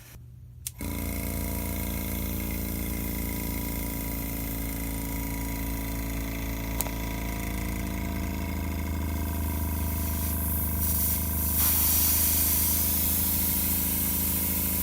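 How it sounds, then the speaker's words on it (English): An air compressor runs steadily, with a continuous loud hiss of air escaping at the regulator of an engraving machine. The dense rushing noise starts abruptly and holds for the whole stretch, with no talking. "So I'm going to turn the air compressor on and show you what happens on the regulator."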